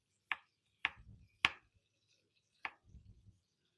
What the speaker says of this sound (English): I'll get them minced up and sliced up on here.